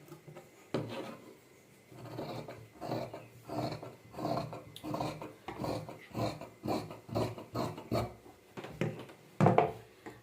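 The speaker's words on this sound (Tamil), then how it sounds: "இதை இப்போ நம்ம கட் பண்ணி எடுத்துக்கலாம்." Scissors cutting blouse fabric along a marked line, a run of about a dozen rhythmic snipping and rasping strokes, close and fairly quiet, with no talking.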